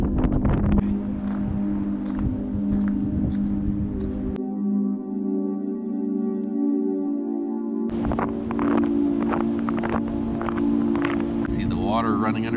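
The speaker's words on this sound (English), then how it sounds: "Quite windy up here." Strong wind buffeting the microphone on a winter mountain summit in North Carolina, heavy low rumbling gusts that drop out briefly in the middle then return, with a person speaking over it.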